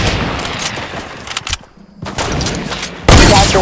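Bursts of gunfire in a Fortnite match, rapid shots and volleys that drop to a brief lull before resuming, ending in a loud close blast.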